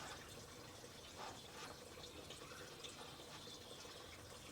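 Coolant drains from the radiator of a 1982 Jeep CJ7 during a cooling system flush, a faint, steady trickle and splash of liquid that continues throughout.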